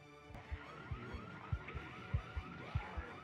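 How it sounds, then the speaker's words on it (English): Car alarm blaring in the Project Zomboid video game, a rhythmic pulsing whoop with regular low thumps repeating about twice a second, sounding alone at moderate volume. "I just activated that car alarm with my mind"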